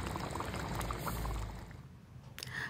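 Thickened chicken fricassée gravy with fresh cream bubbles and sloshes wetly as it is stirred in the pan, a steady close simmering hiss that eases off near the end, followed by a brief clink.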